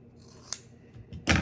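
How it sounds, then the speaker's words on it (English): Scissors snip through fabric along a drawn line during quilt making, with a light click and then a louder, crisp cutting crunch at the end, close up and with no talk. "I can take scissors and just cut down that line that we drew."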